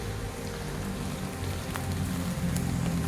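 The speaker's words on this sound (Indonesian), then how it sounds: "hanya menikmati hujan di rimba di kebun" Rain pours steadily through a forest garden, an even wash of drops hitting leaves and ground, with a few sharper nearby drips standing out.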